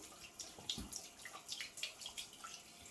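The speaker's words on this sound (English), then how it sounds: "I'm kind of getting the water here warming up" Water runs steadily from a tap while warming up for shaving, with a continuous hiss and splashing plus scattered drips and clinks close by.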